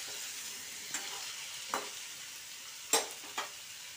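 Fish heads frying in a pan, a steady soft sizzle with a few sharp spatula scrapes or stirs breaking through at intervals, close and moderately quiet with no voices.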